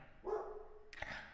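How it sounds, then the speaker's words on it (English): A dog barks indoors in a house, a single loud bark ringing out against a quiet room. "He's barking."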